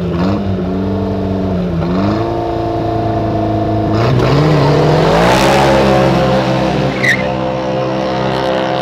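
A tuned VW Jetta with a DSG gearbox and 310 to 315 horsepower races a buggy at Interlagos. Loud engines rev and accelerate continuously, with the pitch climbing through gear changes and a brief tyre squeal.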